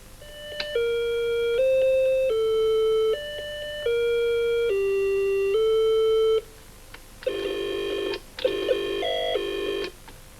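A musical doorbell chime plays a sequence of clear, sustained electronic tones. A slower melodic phrase is followed by two brighter, busier bursts, loud and close with no voices.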